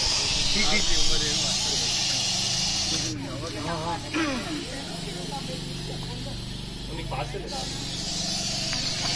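A loud, continuous breathy hiss from a Russell's viper, like a pressure-cooker whistle, persists throughout, with a person talking over it nearby.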